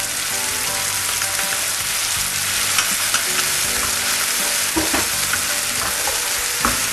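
Baby clams stir-fry with fish sauce and sugar in a hot pan, a loud, dense, continuous sizzle close up, broken by periodic scraping and clattering as the mixture is tossed and stirred.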